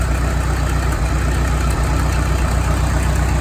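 A Farmall M diesel tractor, started on gas for the first time in years, runs close and loud with a steady, chugging low-pitched rhythm and no talk over it.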